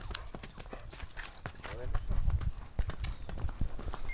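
A startled mare's hooves clip-clop in a rapid, irregular flurry at close range, with a brief whinny partway through, under excited voices talking over the commotion.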